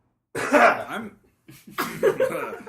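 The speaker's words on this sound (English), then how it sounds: "No, just coughing" Two bursts of harsh coughing, the first a single strong cough and the second a rougher run of several coughs, close and fairly loud.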